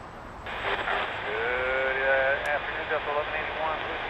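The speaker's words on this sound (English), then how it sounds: "Oh, look at this 777 stealing the spotlight." An Emirates Boeing 777 heavy jet taxiing eastbound on a taxiway, a steady broadband engine whine with slowly shifting tones, fairly close and sustained throughout, with people talking over it.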